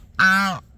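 A goose gives a single short, loud, nasal honk close by outdoors on a snowy day, clear and alone.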